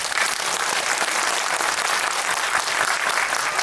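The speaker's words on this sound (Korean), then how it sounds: "박수로 도혜진 감독님, 이정은 선배님, 정영원 씨 그리고 장항준 감독님을 모시겠습니다." Steady, dense applause from a large audience at a film screening Q&A, sustained and even throughout without pause.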